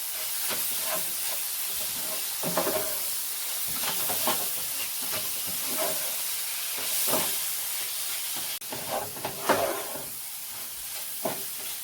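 Spiced coconut tart filling with nutmeg, cinnamon and clove is stirred in a pot on the stove, giving a steady hiss of steam and soft sizzling with repeated scraping strokes at close range and no talking.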